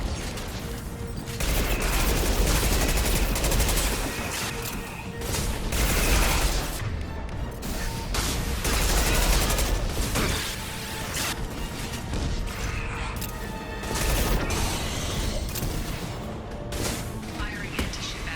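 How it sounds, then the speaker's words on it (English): Anti-ship batteries open fire on a Collector vessel in the Mass Effect video game, a dense, sustained barrage of booming blasts and mechanical clatter rolling on for the whole stretch, loud and continuous with brief swells. "Firing anti-ship batteries at collector vessel."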